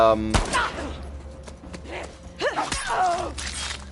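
Pistol gunfire in The Last of Us Part II, heard as two sharp, isolated shots about two seconds apart, each a sudden crack followed by quieter in-game ambience and mechanical rattling.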